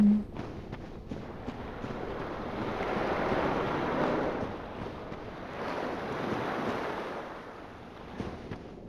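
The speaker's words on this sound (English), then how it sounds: "I hear waves." Ocean waves in the video game Dark Souls: Remastered wash in as broad, steady surf, swelling and receding twice over a constant windy rush with no talking.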